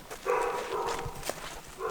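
A dog barks a few times at moderate distance among ruined masonry house structures, with faint outdoor noise around the barks.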